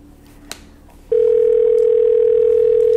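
A telephone dial tone starts abruptly after a brief quiet moment and holds as a loud, steady, continuous tone while a phone call is placed.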